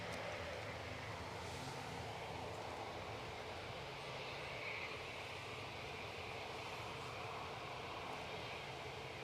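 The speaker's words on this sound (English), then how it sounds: "Aer Lingus, in the meantime, giving us a bit of rolling action." An Aer Lingus airliner on its take-off roll at Newcastle International Airport: a faint, distant, steady broadband engine roar with no talking.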